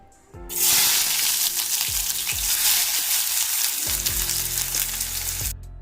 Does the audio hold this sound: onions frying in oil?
yes